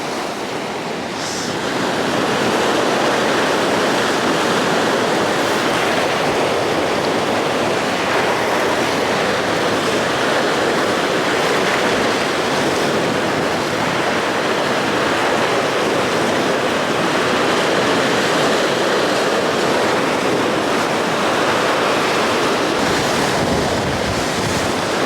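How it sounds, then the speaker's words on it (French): Ocean surf rolls steadily onto a beach in Thailand, with dangerous waves breaking near a fishing spot; a loud, continuous wash of breaking water with wind noise on the microphone runs throughout, with no voices. "Je regarde en même temps si les vagues elles arrivent pas vers là aussi."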